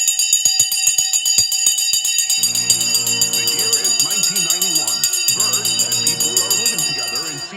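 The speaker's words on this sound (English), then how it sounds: "The bell has gone." The stock market opening bell rings steadily and loudly for several seconds, a sustained metallic ringing that runs beneath someone talking excitedly over it.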